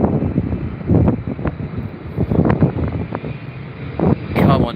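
A Saudia airliner at Heathrow Airport roars past as a distant broad engine rumble under gusty wind noise, with brief voices talking over it.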